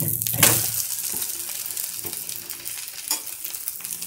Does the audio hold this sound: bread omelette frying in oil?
yes